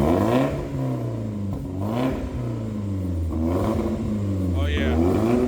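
A BMW E36 with an electronic valve exhaust, valve open, revs in repeated throaty surges that rise and fall, loud and close, with people talking over it.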